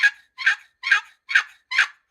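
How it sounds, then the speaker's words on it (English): Five evenly spaced turkey yelps made by dragging the lid of a chalked wooden box call, each a short raspy squawk, loud and close, with brief silences between them. "And all you do with that to make a yelp is drag it."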